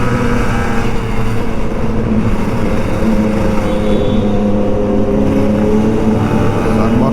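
A big motorcycle engine revs and rolls along with a steady loud drone and rising throttle swells, heard up close from a riding Kawasaki Ninja RR 150 nearby.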